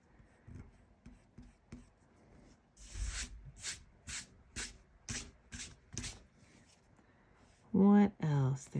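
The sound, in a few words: eraser rubbing out pencil on paper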